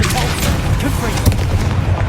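A Confringo fire-blast spell bursting in Hogwarts Legacy, a loud booming blast with a sharp impact near the middle, over continuous rumbling game noise and some voice.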